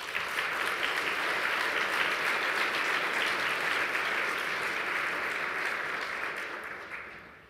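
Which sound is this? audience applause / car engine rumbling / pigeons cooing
audience applause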